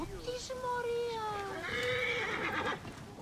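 A horse whinnies in Assassin's Creed Origins, one long descending neigh with a second rising call, loud and close over game music and ambient sound.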